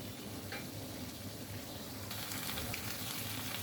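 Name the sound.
sautéing pointed gourd and small shrimp in a pan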